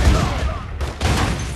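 Gunfire in The Godfather II video game: a dense burst of shots that fills the clip, dips briefly in the middle, then resumes, loud and close.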